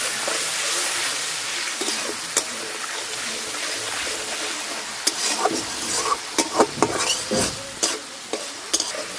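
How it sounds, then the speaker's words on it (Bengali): Spice paste for a Bengali kalia sizzles steadily in a pan while a spoon stirs it, with sharper scraping knocks growing more frequent in the second half. "মশলাটা ভালোভাবে কষাই নিচ্ছি"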